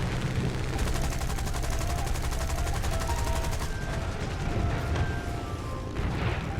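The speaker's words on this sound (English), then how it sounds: "Turbo raked him with machine gun fire" A Spitfire Mk IIa fires its machine guns in War Thunder, a long rapid rattle of bursts over steady engine drone, loud and continuous, with brief tonal blips layered on top.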